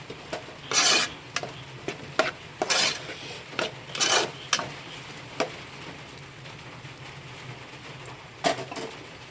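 A utensil scrapes and clatters repeatedly against a pan while stirring masala for karimeen pollichathu, with a soft sizzle underneath and irregular bursts of scraping.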